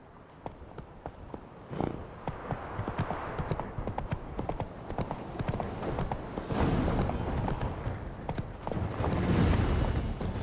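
Roach, the horse in The Witcher 3, gallops in a steady clip-clop of hooves that grows louder and denser toward the end, with brief speech present.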